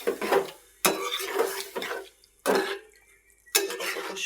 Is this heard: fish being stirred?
yes